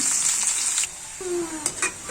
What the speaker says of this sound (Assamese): কাটি থোৱা পিঁয়াজখিনি মই ৰঙচুৱা হোৱালৈকে ভাজি ল'লোঁ